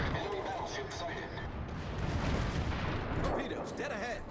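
Naval guns fire at a ship in the World of Warships video game, giving a continuous rumble of booms and distant blasts while someone talks over the battle.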